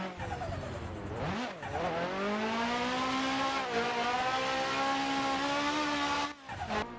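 A competition race car on a race track in a VR drift video game revs hard, its engine pitch dipping and climbing through gear changes and slides, loud and close throughout with brief tire-squeal moments and no talking.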